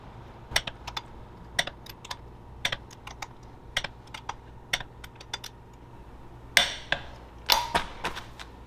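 Torque wrench clicking as clutch bolts on a transaxle are tightened to 52 foot-pounds; crisp, close clicks spaced irregularly, with a few louder clunks and ratchet clatter near the end, no talking.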